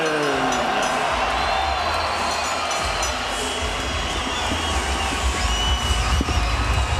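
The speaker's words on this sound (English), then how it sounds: "the crowd here at the Shark Tank is in a frenzy for the hometown hero" An arena crowd at the Shark Tank in San Jose roars and cheers for hometown MMA fighter Josh Thomson as he walks to the cage at a 2007 Strikeforce event, a dense, sustained wall of noise.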